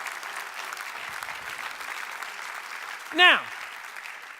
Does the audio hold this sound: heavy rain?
no